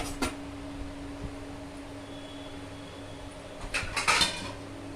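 A metal lid set onto a pot of boiling semolina, with a soft clink early on and a louder cluster of rattling metallic clatter near the end over a low kitchen hum.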